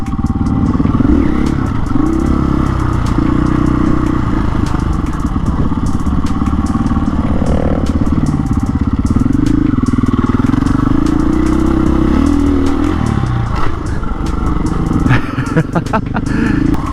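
A 2023 KTM 500 EXC-F dirt bike ridden off-road, its engine droning loud and close throughout with shifting revs, rattles and clatter, and the rider's voice faintly audible under the engine noise.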